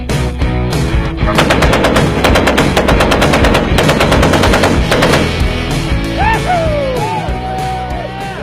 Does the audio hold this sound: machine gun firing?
yes